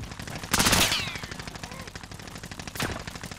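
Enemy gunfire in a military shooter game, with two loud bursts of shots close by against a busy background of game noise and faint voice chatter.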